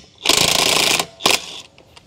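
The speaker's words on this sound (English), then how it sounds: "We're gonna use our half inch Dewalt Impact." A half-inch DeWalt impact wrench loosening a 22 mm lug nut on a Jeep Gladiator, with a long, loud buzzing rattle of about three-quarters of a second followed by a shorter second burst, nearby and with no talk.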